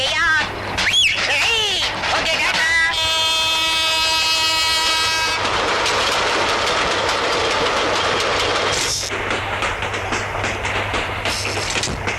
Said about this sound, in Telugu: తొందరగా రా బాబు, ట్రైన్ వెళ్ళిపోతుంది